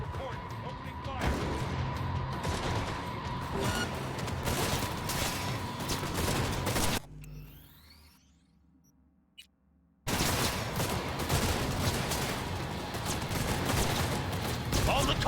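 Enemy units open fire in a corporate-themed action video game, a dense, loud burst of gunfire and crashing noise over music, cutting briefly to near silence in the middle before the barrage resumes.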